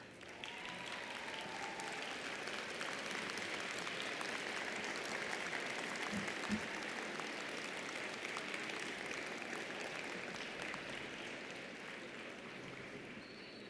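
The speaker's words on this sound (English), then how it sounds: "give a round of applause to those people who made it possible for you to be here today" A large crowd of graduates applauding at a university winter commencement ceremony, sustained dense clapping heard from some distance, steady for many seconds before tapering slightly at the end.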